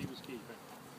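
Honeybees buzzing around a hive cage during a package bee install, a close steady hum with brief higher whines as individual bees fly past.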